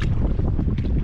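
Ocean wind at sea from a boat roars loud and close as a dense, buffeting rush across the mic, with a short dip partway through and no voices.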